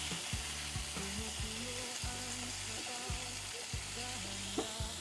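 Tomatoes sauté in a pan for a chicken and mung bean dish, a constant bright frying hiss with some stirring clatter, fairly quiet and close, and no one speaks.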